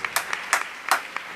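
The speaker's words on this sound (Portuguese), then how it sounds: "Palmas para Jesus" A church congregation claps for Jesus in scattered, irregular bursts, several sharp claps spread across a short stretch, moderately loud and close, with no talking.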